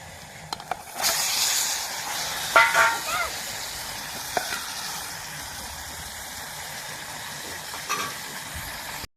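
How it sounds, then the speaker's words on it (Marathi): Fish is dropped into hot sunflower oil and starts to fry, a sudden loud hiss that settles into a steady, close sizzle with a few brief clicks and spatters and no talking. "सनफ्लावर तेल आहे. आता मासे टाकून घेते."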